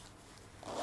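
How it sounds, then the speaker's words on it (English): A laptop backpack zipper is drawn shut up close, a quiet pause followed by one quick rising zip that ends the clip. "Zip that up."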